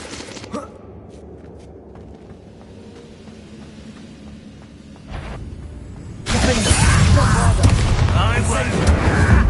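A Bombarda spell explosion in Hogwarts Legacy hits suddenly midway as a loud burst, then gives way to a sustained roar of crumbling debris and rumble. A voice calls out the spell before the blast.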